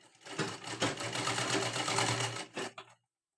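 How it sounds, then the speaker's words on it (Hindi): A sewing machine stitches a blouse in a steady, loud, fast whirring run that lasts nearly three seconds, then stutters through a couple of short bursts before stopping. No voices are heard. "यहाँ पे और यहाँ से सिलाई करनी है।"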